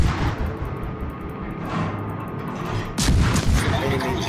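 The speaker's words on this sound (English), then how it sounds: "Enemy destroyer, and we're going to put some shells into him." Naval gunfire from a warship in the World of Warships video game booms repeatedly, with rumbling salvos and a heavier burst of shots near the end, loud and close with no speech.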